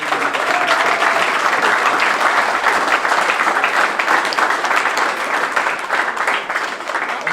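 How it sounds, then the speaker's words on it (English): Loud, sustained applause fills a presentation ceremony at the 2023 Polynesian Youth Cup, a dense crowd of clapping hands holding steady throughout and easing slightly at the end. "please give them a big round of applause"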